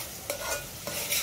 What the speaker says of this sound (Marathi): सो आपलं ते आता फ्राय होत आहे,